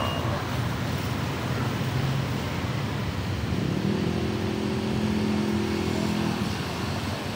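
Motorcycle engine running at a steady hum amid broadband road noise, with a tonal drone rising partway through as the engine note shifts; no talking.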